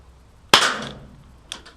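Two sharp snapping shots from a Makarov airsoft pistol fired in single action, the first loud and close with a short decay, the second a second later and softer.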